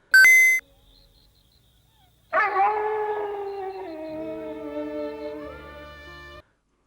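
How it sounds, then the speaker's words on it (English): Wolf howling in the 1989 anime Jungle Book Shonen Mowgli: a sharp tone, a short pause, then a long sustained howl that wavers slightly in pitch, loud and clear with a faint musical backing. "The howling continues, but the wolf on top of the rock disappears."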